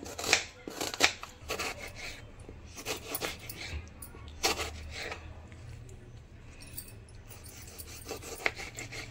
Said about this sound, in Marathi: हे बघा कांदा पातळ पातळ असा कापून घ्यायचा